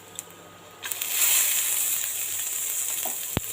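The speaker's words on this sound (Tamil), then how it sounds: "இப்போ நாம் கட் பண்ணி வச்சுருக்கிற ஆனியனை சேர்த்துக்கலாங்க." Chopped onion hits a pan of frying lentils for a poriyal, a sudden burst of sizzling that swells and then settles into a steady hiss, with a sharp clack near the end.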